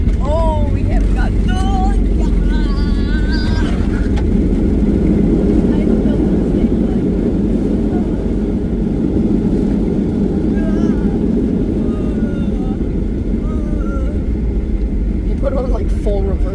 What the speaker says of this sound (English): Put on like full reverse thrusters